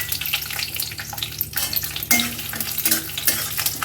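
Peanuts fry in hot oil in a wok for a pumpkin chhokka, giving a loud, close, continuous sizzle with crackling bursts and the occasional scrape of stirring. No one speaks.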